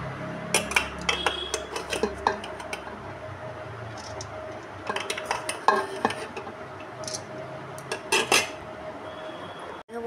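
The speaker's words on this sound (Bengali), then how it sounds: "ঘি দিয়ে তারপরে আমি এখানটা দিয়ে দিব এই যে ভাত।" Cooked rice is spooned and layered into a pot over ghee for biryani, with scattered clinks and scrapes of a metal utensil against the pot coming in irregular bursts, close by.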